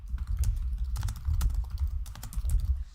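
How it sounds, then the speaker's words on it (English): Fast, close clatter of keys being typed on a computer keyboard during a live game commentary session, a continuous run of crisp taps with no talking. "I don't know what I'm typing in the chat for."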